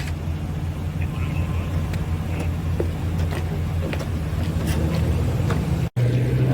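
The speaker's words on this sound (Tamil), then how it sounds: "போட் ஸ்டார்ட் ஆகிடுச்சு." A boat engine at a public boat ramp in Shuwaikh, Kuwait runs with a steady low drone, briefly cutting out near the end before a smoother idle resumes, with faint background voices.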